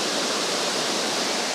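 A strong waterfall with fast-flowing water roars as a dense, steady, broadband rush, loud and continuous throughout with no voices.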